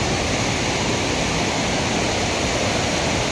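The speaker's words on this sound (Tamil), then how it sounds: "அந்த இடத்துல தண்ணி நல்லா அடிச்சு போகுது" River water rushing hard at a bathing spot after a trek, a loud, steady broadband roar that fills the whole clip without a break.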